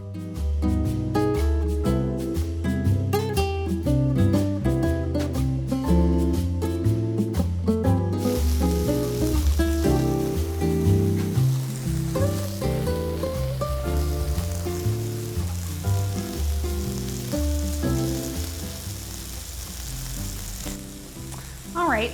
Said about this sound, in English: we're gonna let those sizzle for a bit